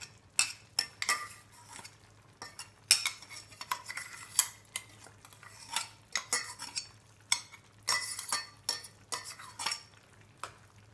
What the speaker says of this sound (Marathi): भाजी शिजली आहे, आपण त्याच्यात मिरी आणि खोबऱ्याचं वाटण घालून घेऊया